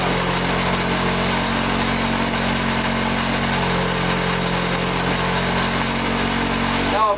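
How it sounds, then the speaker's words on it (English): A polishing wheel buffing an old exhaust pipe, its steady motor drone running loud and continuous throughout with a tonal hum, loading slightly under pressure. "Now you can hear the wheel start to slow down."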